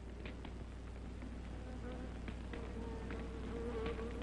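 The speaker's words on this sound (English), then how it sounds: "What's that? The bee." An insect buzzes steadily, bee-like, close by in a quiet interior for about four seconds, with a low hum and faint room noise beneath it and no talk over it.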